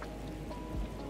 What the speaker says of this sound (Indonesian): Hanya sesekali ditemani kilatan cahaya di langit dan gerimis yang masih tersisa.